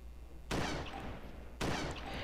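Two loud, booming shots from an AS-50 .50 cal sniper rifle in DayZ, spaced about a second apart, each sharp crack trailing into a long rolling echo.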